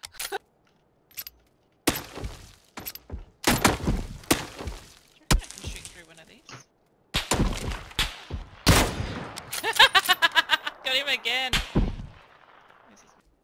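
Gunfire in the battle royale video game PUBG: sharp bursts of shots, single cracks and rapid volleys separated by pauses, loud and close, with a shattering clatter near the end and players talking and laughing around it.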